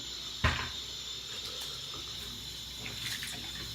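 Eheim canister filter parts rinsed under a running tap: a steady wash of flowing water with one sharp splash or knock near the start, no voices.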